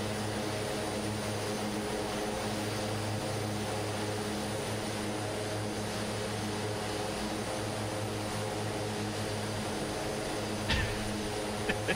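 Propeller airliner, a Douglas DC-6, droning past in a flight simulator over Alaska's Kodiak Island, a steady engine hum holding evenly throughout with a couple of brief clicks near the end and no talk.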